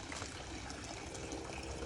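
Water pours steadily into a tarpaulin-lined swimming pool in the provinces, a continuous dense gushing splash that stays close and fairly loud throughout, with no talking.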